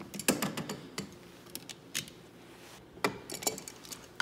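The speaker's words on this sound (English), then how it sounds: "So while that's out, I'm gonna clamp it on." Small metallic clicks and ratchety snaps come from a hose clamp being worked onto a coolant hose near a painted coolant tank, quiet and close, in irregular bursts with short pauses.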